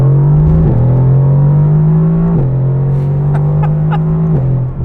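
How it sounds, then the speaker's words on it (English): Mercedes-AMG GT R exhaust in race mode, a loud close droning engine note held near steady around 4,000 RPM with small stepped shifts in pitch and faint crackles, no talking. "the exhaust in race is just wild"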